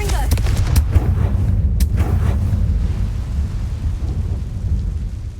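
A Confringo blasting spell explosion in Hogwarts Legacy, a deep booming rumble with sharp crackling bursts at the start that rolls on as a low roar, loud and close.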